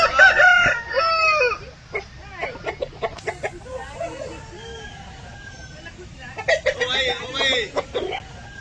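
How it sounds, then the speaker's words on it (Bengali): Roosters crow loudly and hens cluck at a poultry market selling red and black fighter-type chickens, repeated calls close by, with someone talking between them. "এটা দেখলো একটা পুরো হিরে লাল মুরগি আছে"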